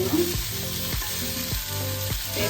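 Tomato chutney ingredients fry in a pan, a dense continuous close sizzle with regular soft thuds about every half second, as though the pieces are being pressed or turned, and no voices.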